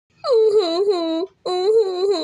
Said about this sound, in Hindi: एक सुंदर सा फूल रखा हुआ दिखाई देता है जिसमें से रोने की आवाज़ें आ रही होती हैं।